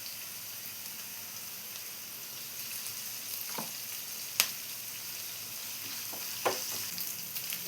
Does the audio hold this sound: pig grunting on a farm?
no